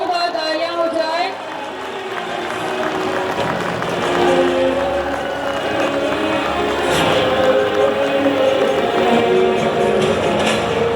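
Crowd applause at a foundation stone ceremony for Siliguri road infrastructure, a broad sustained patter of clapping that swells slightly and continues under someone speaking over a microphone.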